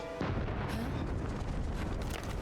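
Dynamite blasts in the Indiana Jones video game: a dense, rumbling explosion that roars through the whole moment, heard at a distance and fairly faint, with no talk over it.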